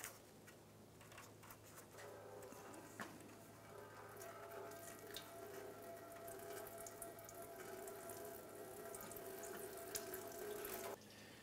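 Coolant draining from the radiator of a 2006-2013 Chevrolet Impala, a steady splashing pour of liquid into a pan that runs close and continuous for about ten seconds, then stops abruptly.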